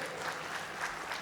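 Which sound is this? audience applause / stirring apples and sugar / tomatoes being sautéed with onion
audience applause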